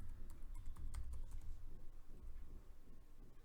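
Quiet keystrokes on a computer keyboard as a password is entered, a short run of soft, quick taps over a low background hum, with no talking.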